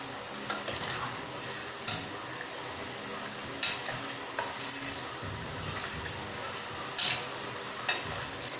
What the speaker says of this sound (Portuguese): aí vai mexendo assim para fritar por igual, tá? Tá bem quente, veja, e rapidinho elas douram.